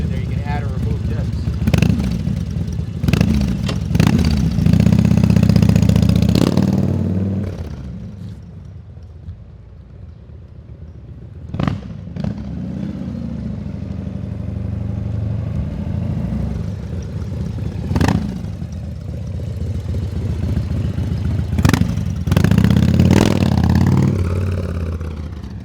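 A 1993 Harley-Davidson FXR, a rubber-mounted bike, runs with adjustable disc-type Super Trap exhaust pipes, its low engine rumble swelling in two loud stretches beneath ongoing talk.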